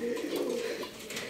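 Pigeons cooing inside a pigeon house, a soft, low throaty coo close by, brief and alone.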